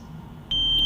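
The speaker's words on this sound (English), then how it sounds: "Apologies for the beeping, but basically I should have replaced the battery," A smoke detector with a low battery gives a single sharp, high-pitched chirp partway through, loud and close over a steady low room hum.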